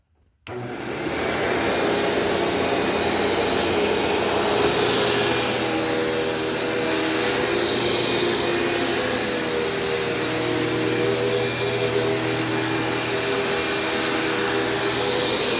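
A commercial vacuum cleaner starts with a sudden surge and then drones loudly and steadily on carpet, holding a constant whining hum with slight shifts in pitch, and no one speaks.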